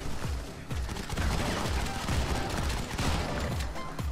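Rapid bursts of gunfire in the shooter game Modern Combat 5, clattering volleys and single cracks overlapping in quick succession at moderate loudness, with no talking.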